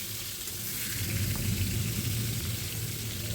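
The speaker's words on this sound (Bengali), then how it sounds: "এখন আগের থেকে লবণ আর হলুদ মাখানো পটলগুলোকে ভেজে নেব" Salted, turmeric-coated pointed gourd (potol) frying in oil over low to medium flame, a steady, dense close sizzle that barely changes, with a soft stirring rustle underneath.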